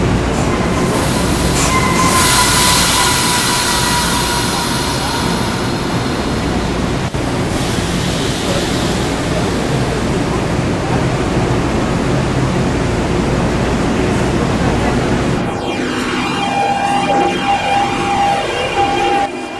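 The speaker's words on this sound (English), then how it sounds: "here comes the Amtrak Keystone on its way to New York Penn Station" Amtrak Keystone train passing in the Trainz railroad simulator game, bound for New York Penn Station: a loud, continuous rumble of rolling cars with wheel squeal, ending in high squeals and a sustained tone near the close.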